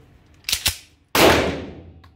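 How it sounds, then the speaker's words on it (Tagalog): A handgun drawn quickly from a bag and fired: two short clicks or snaps, then a single sharp, loud shot with a decaying ring, close by and with no talking. "Ganong kabilis ang putok niyan."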